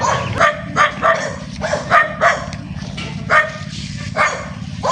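A dog barks in a steady series of loud, closely spaced barks outdoors, with some whimpering yips between them over a low background hum.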